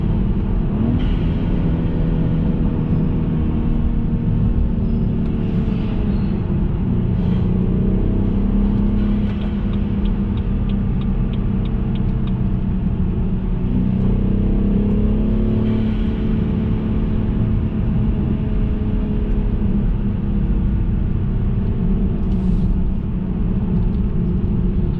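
A BMW 328i F30 with the N20 engine and an Injen aftermarket air intake rumbles steadily through a downshift, its engine note rising and falling in pitch with each gear change, heard from inside the car for the whole stretch.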